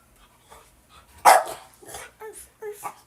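A dog gives a single loud bark up close, followed by a few softer yips and whimpering sounds.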